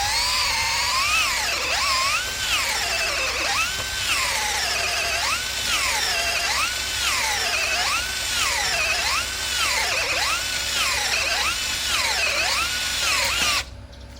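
A cordless drill bores continuously, giving a loud, close whine whose pitch rises and falls in a regular cycle. The whine runs for the whole stretch and drops off abruptly at the very end, with no talking.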